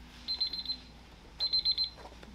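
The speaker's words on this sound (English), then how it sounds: "who's got the alarm?" An alarm clock goes off during a panel discussion on autonomous driving, sounding two bursts of rapid high-pitched beeping separated by a short pause, clear and fairly close in an otherwise quiet room.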